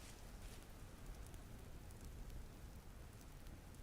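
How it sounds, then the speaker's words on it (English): Gentle rain falls in the video game Vintage Story as a steady, soft hiss of drops with no pauses. The rain sounds faint and continuous, with no voices over it. "we do have a gentle rain going, so I don't need to water those"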